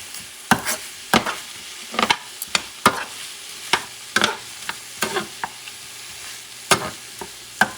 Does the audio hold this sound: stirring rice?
yes